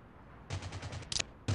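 Automatic gunfire in the mobile battle-royale game Rules of Survival, a rapid burst of about six shots followed by a sharp single crack and another burst, fairly quiet and close.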